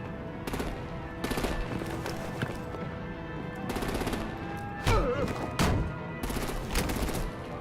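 Rapid automatic gunfire in a Batman episode, loud bursts repeating in irregular clusters as weapons open up on vehicles, with some scattered sharp impacts between volleys.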